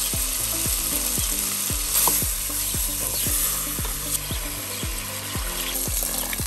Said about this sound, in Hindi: इसको मसाले के साथ भून लेते हैं